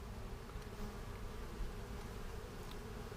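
Honeybees swarming over a brood frame in a hive with a Saskatraz queen, a dense, continuous low buzzing drone held close and steady throughout.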